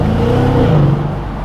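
A Mercedes-Benz S500 Coupe pulls away in first gear through the streets of Monaco, its engine note climbing in pitch as it accelerates. The sound is a steady, close, full-bodied hum with no talking.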